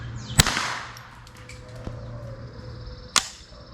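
Rifle shots from a Bear Creek Arsenal BC 201 with a bull barrel at a target range: two sharp, loud cracks about three seconds apart, with a faint tap between them and quiet outdoor background.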